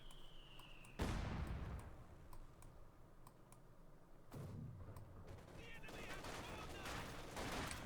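MG42 machine gun fire in the Company of Heroes 2 video game, a sharp burst followed by a decaying rumble, then another burst and rapid crackling shots, under quiet background game sounds.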